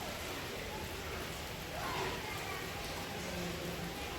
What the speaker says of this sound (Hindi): ये देखिए कैसी बारिश हो रही है।